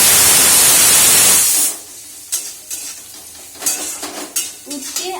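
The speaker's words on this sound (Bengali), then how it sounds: "আলু পেঁয়াজ দিয়ে ভাজছি" Bitter gourd with potato and onion sizzles loudly in a hot pan at first, then the frying drops away into quieter scraping and clinking of a spatula against the pan.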